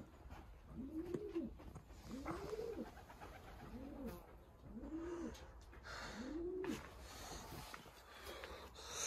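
Pigeons in a breeding loft cooing in a slow series of five or six rounded, rising-falling coos, fairly close, over faint background noise.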